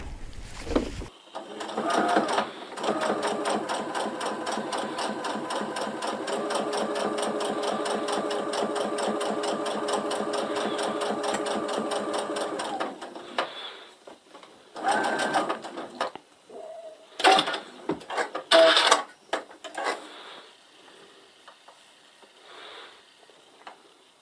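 A sewing machine with a binding attachment stitches binding onto a piece of fabric, running steadily and loud for about ten seconds, then in several shorter bursts with pauses between them.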